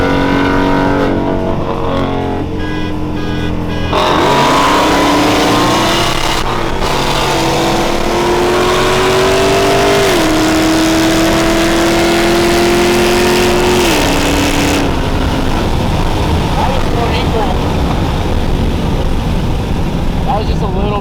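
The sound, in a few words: 700 whp procharged Mustang accelerating hard in a race pull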